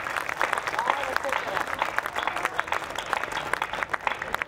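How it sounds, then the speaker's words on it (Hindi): An audience at a Hindi poetry gathering in Chhattisgarh claps on cue, keeping up a continuous, moderately loud patter of many hands throughout. "तालियां बजाकर मुझे बता दें।"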